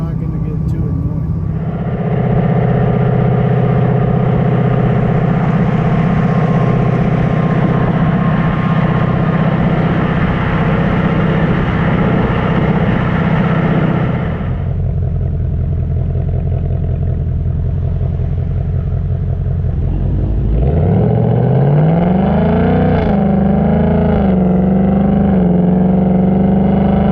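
A 2019 Mustang GT V8 with an H-pipe exhaust idles with a steady, deep burble, shifts to a lower rumble partway through, then revs up with rising, loud exhaust sweeps; no one talks.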